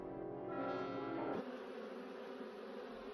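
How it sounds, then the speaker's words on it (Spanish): A steady, droning bee buzz, around 30 hertz, hums close by, shifting slightly in pitch partway through, with no one speaking. "El zumbido de una abeja tiene unos 30 hercios"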